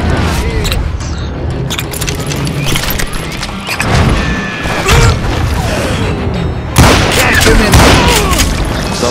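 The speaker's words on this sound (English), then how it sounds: "a fusillade of bullets come raining down from on high" Gunfire volley in Call of Juarez: Gunslinger, a dense barrage of loud cracks and booms layered over game music and ambience, with sharper bursts near the middle and end.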